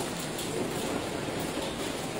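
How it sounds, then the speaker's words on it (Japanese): Rain falls steadily while walking through the streets of Jiufen, Taiwan, a dense, even hiss of drops with no talking over it. "あ、雨、ちょっと待って。"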